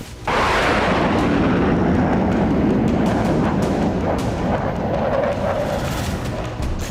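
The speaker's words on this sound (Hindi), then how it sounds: "आर्टिलरी के साथ हमले की प्रैक्टिस हो रही है।" Heavy artillery fire in a military exercise, a loud continuous rumble of distant booms rolling into one another, with no talk over it.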